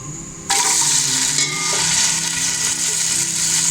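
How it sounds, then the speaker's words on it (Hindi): Onions being fried in hot oil for a tadka burst into a loud, close, hissing sizzle about half a second in, then keep crackling steadily to the end. "अब मैं प्याज का तड़का तैयार करती हूँ"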